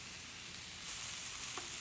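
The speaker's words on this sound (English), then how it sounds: "I'm just going to let these sit and toss every once in a while until they're fully cooked and wilted" Spiralized zucchini noodles sautéing in a pan until wilted, a soft, even hiss of frying, fairly quiet and steady, with a faint tap near the end.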